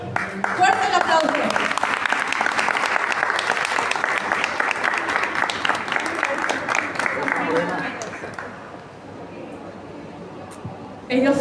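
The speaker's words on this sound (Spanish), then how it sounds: "Fuerte el aplauso." An audience at a literary reading event gives a sustained round of dense applause that gradually thins and fades near the end, with a voice talking over it.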